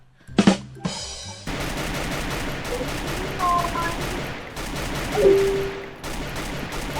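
Rapid gunfire from a video game rattles through the whole stretch, steady bursts sitting under a busy game soundscape, with a loud sharp hit near the start and a brief tonal whine later on.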